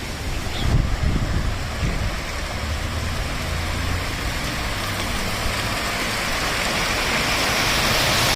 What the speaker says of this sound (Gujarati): આ એક ઝરણું જઈ રહ્યું છે અહીંથી.